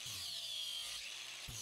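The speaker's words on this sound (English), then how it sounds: "swapping over to a sanding disc will make really short work of what's left of those gusset plates and the very hard material which was the weld" An angle grinder fitted with a sanding disc grinds down leftover weld and steel gusset plates on a modified rebar bending tool, a steady close high-pitched abrasive whine with a brief low thump near the end.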